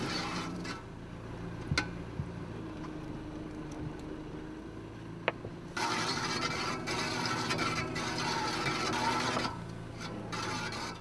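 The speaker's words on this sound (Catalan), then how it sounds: "I ara ja estem començant a treure el que són les xarxes, amb l'ajuda de la màquina i anem llevant" A net-hauling machine aboard a small artisanal lobster boat off Menorca grinds and rasps steadily, pulling in heavy fishing nets; the mechanical rubbing runs continuously and grows louder and busier partway through, with a few sharp clanks.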